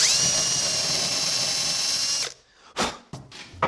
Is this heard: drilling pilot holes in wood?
yes